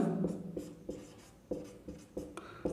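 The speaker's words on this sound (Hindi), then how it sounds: "सबसे पहले तो हम लिख लेते हैं दिया है" A pen writing on paper at a desk during a maths lesson, close and steady, with short scratchy strokes and distinct taps as it moves across the page, no voice over it.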